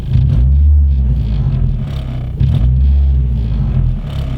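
A car engine fitted with polyurethane engine and transmission mounts idles with a deep, steady low rumble, close and fairly loud, with a few slight surges in the throb.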